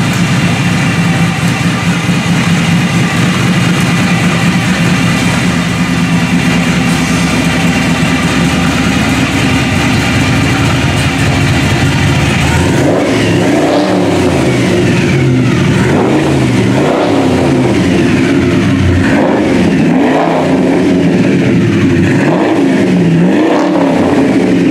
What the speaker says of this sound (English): listen to that 383 cubic inch Chevrolet V8 engine rumble through its dual exhaust system